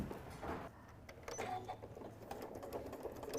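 A home sewing machine stitches a seam through fabric near a Velcro strip while a stuffed nativity figure is made, a close, steady mechanical whir with faint rhythmic ticking running for a few seconds.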